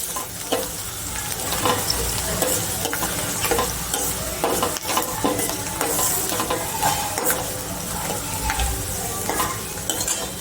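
Bay leaf, cardamom, cinnamon and cloves frying in hot oil with onion, a loud continuous sizzle broken by frequent scraping and clinking of a stirring spoon against the pan, no talk.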